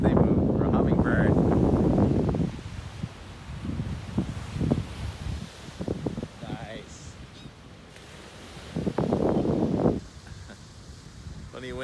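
Strong wind blows outdoors near the sea, buffeting the microphone in heavy rumbling gusts that rise and fall, with occasional voices in between.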